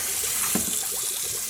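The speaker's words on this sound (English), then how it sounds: "I'm going to fill this back up with water." Tap water runs steadily into a container, splashing and gurgling as it fills a yarn dye pot. The rush of water is continuous and close.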